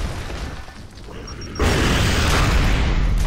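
A frag grenade goes off in Gears of War 3 as one loud, sudden blast partway through, followed by a sustained roaring rumble of debris and noise in a combat scene.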